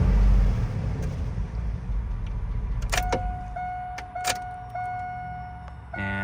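A Chevrolet Tahoe or Silverado engine idles with a steady low rumble inside the vehicle, joined by a few sharp clicks and a thin electronic tone that comes and goes.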